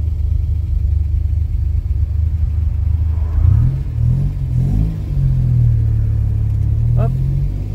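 A restored Alpine GT pack car drives on the road, its engine rumbling steadily up close from inside the cabin with a brief rev midway, while someone talks over the noise.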